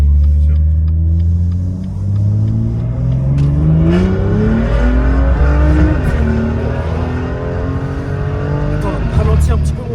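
A McLaren sports car accelerates hard, heard from inside as a loud engine roar that climbs in pitch through repeated gear changes, with tire noise beneath.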